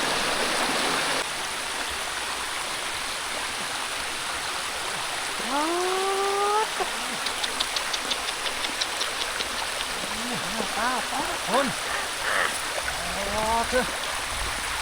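Rain falls outdoors during evening fishing with a net, a steady soft patter and hiss holding throughout, with frogs or insects calling in short rising chirps over it.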